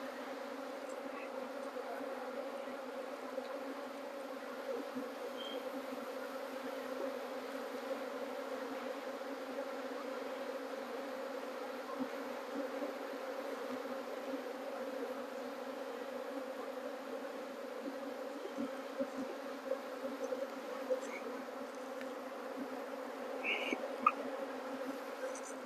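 Honey bees hum during a hive inspection: a faint, steady droning buzz persists throughout with a few small clicks and knocks near the end, no talking.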